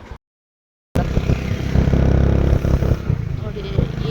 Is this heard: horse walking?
no